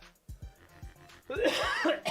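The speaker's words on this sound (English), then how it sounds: "Got a little bit of a cough" A person gives a quick run of several soft, close coughs, followed by a louder, rougher burst of coughing or throat clearing.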